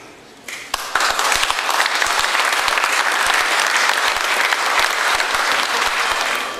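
Sustained applause from a large crowd at a funeral in Rethymno, Crete, where the national anthem and marches were played, with dense clapping holding steady and loud throughout after a brief quieter start.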